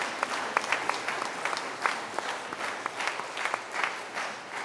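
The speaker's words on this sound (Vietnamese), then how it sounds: "Chúng ta làm tràng pháo tay chúc mừng Giáng sinh và năm mới cho nhau." A congregation at a Vietnamese-language Christmas Mass in a church gives a steady round of applause, many hands clapping together at moderate distance, with no voices over it.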